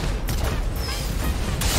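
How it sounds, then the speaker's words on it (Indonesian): Gunfire in the Fortnite battle royale game, a loud sustained burst of rapid shots with dense rumbling booms and a brief sharp crack, no talk. "Kok sama-sama tembak-tembakan ke temen ya?"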